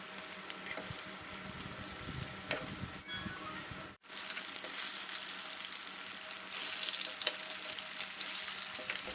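Dense crackling sizzle of batter-coated Thai khao mao snacks frying in hot oil over medium-low heat, continuous and close, with a brief dip midway before the bubbling swells again.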